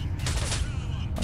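Sustained enemy gunfire in the video game S.T.A.L.K.E.R.: Shadow of Chernobyl, a dense, continuous rattle of shots filling the short stretch, with a voice partly underneath.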